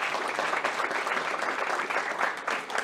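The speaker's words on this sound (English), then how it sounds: "one more round of applause for Dario" Audience applause at an insulator collectors' gathering, a dense steady wash of many hands clapping at close range, continuous and fairly loud for the whole stretch with no talk over it.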